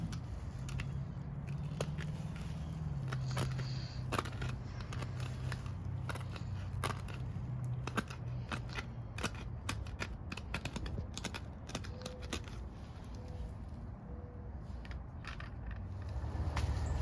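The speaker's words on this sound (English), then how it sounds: "I just take my blade and cut all the way down" A blade cutting a strip of artificial turf for installation between concrete, close sparse snips and crackly ticks scattered over a low steady hum, with no talking.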